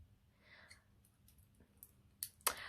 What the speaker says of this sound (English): Let's have a look at the scissors.